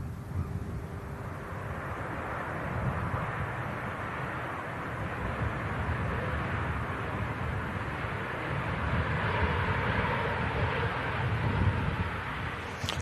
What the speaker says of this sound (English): It's pretty gusty here at Manchester as well. It's been pretty windy throughout.